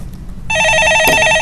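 A telephone on a stock-market call-in radio show starts ringing abruptly with a loud, close, trilling electronic bell that holds steady until the clip ends.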